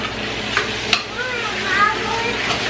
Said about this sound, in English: I'm going to just let that simmer in there until it kind of dries out